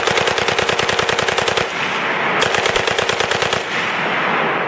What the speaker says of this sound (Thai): เสียงปืนดังสนั่นวันไหวไปหมดไม่รู้ว่าใครเป็นใคร